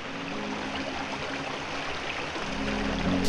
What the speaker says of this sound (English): we got a really beautiful river here